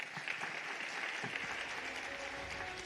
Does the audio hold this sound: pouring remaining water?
no